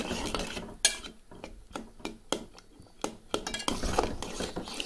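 A spoon stirs chilli powder into tomato pappu in a metal pot, giving repeated sharp clinks and scrapes against the pot in an uneven rhythm, close and clear with no talking.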